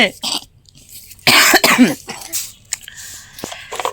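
A feverish child coughs several times in close, harsh bursts with short pauses between them, and some throat clearing follows.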